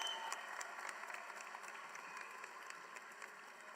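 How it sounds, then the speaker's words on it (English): Audience at a university honors society induction ceremony applauding new members, faint, steady clapping heard from a distance, even and continuous throughout. "Let's give our new members a round of applause."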